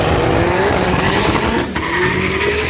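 A drag race car launches at full throttle in a loud, close engine roar with tire squeal and rising pitch, continuous and dominant throughout.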